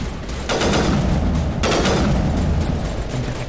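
Rocket launcher fire in the Mass Effect video game: two loud, booming blasts about a second apart, each followed by a sustained rumbling roar and dense combat noise.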